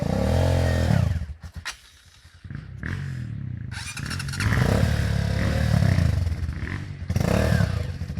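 A motorcycle engine runs loudly and close on a trail near a waterfall, rumbling steadily with a brief dip in the middle before revving back up.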